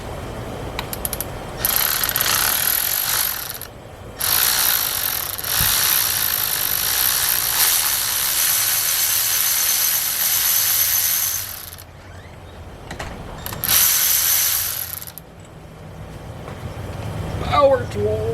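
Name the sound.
power tools loosening parts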